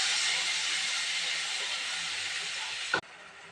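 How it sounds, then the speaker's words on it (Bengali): Ginger, garlic and onion paste sizzles steadily in a hot pan, a loud continuous hiss that cuts off abruptly near the end. "ভালো করে কষিয়ে নেব।"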